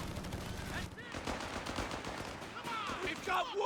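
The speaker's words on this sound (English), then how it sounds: "Got some machine guns rolling out. Weasel occupied, shooting at the Grenadiers behind the heavy cover." Rapid machine gun fire in the Shadow War video game, dense bursts of gunshots rolling across the whole moment, with a commentator's voice running underneath.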